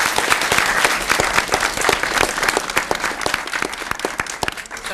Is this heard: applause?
yes